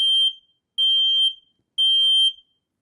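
Nest Protect smoke detector sounding during a smoke test: three loud, piercing electronic beeps at an even pace, each about half a second long, alone and close.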